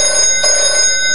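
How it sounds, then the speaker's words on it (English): Telephone ringing with a steady electronic tone, a sustained bell-like sound that pulses slightly across about a second, fairly loud and close, with no voices. "Another phone call."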